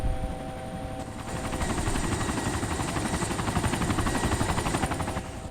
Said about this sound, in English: This is a huge ass plane.